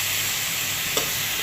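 A pan of pointed gourd, chilies, garlic and onion keeps up a constant close sizzle, broken once by a brief soft knock or scrape of a utensil.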